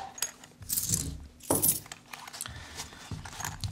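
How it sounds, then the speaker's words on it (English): Heavy-duty Velcro on a Maxpedition wallet closure is pulled open in a couple of short, harsh tearing rips, close and fairly quiet, with softer handling noises between them. "As you can already hear, this is definitely heavy-duty Velcro."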